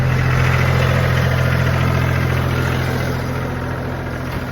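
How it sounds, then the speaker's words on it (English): Engine on hay-baling equipment held at about 1500 RPM, a loud, steady, close mechanical drone with even vibration that eases slightly toward the end, no talking. "I'm gonna let it sit there, rev at about 1500 RPMs"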